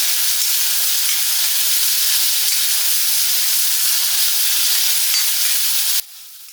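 Soya chunks and vegetables sautéing in coconut oil, a loud, steady, dense sizzle running unbroken for about six seconds before abruptly dropping to a faint hiss.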